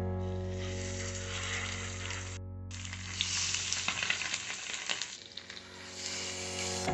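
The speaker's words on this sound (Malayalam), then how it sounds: "മസാലയൊക്കെ ആയിരിക്കുന്ന ഫിഷ് ഓരോന്നായിട്ട് നമ്മൾ എണ്ണയിലേക്ക് ചേർത്ത് കൊടുക്കാൻ പോവുകയാണ്." Masala-coated mackerel pieces sizzling as they fry in oil, a steady hiss over a low hum, growing busier and more crackly midway with a brief drop in the noise.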